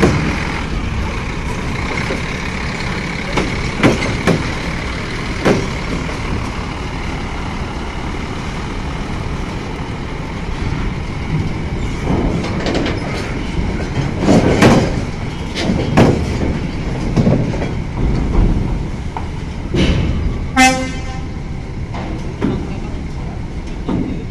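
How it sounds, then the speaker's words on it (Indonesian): A heavy trailer truck rolls onto a ship, with rumbling, clanking metal impacts and scraping under a constant loud machinery drone, while voices call out nearby. "Mulai dimuat nih, trailer paling depan."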